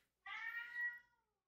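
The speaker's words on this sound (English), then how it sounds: "all he does is meow for 75 minutes straight" A single cat meow, loud and close, drawn out for about a second with a slight rise near the end, then silence.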